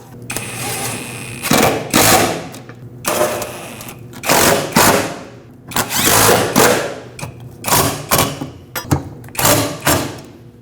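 A power tool snugs up driveshaft bolts on a 2013-2019 Ford Escape during parking brake cable replacement, sounding as a series of loud, close whirring bursts separated by short pauses.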